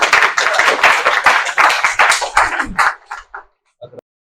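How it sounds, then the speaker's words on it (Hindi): Audience applause in a room at a sales-technique talk, a dense burst of hand claps lasting about three seconds that thins out and stops, with a few scattered claps trailing off at the end. "प्लीज तालियां"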